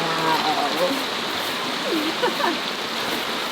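A stream flowing steadily outdoors beside a stone house in Portugal, a broad continuous wash of running water with faint voices murmuring underneath.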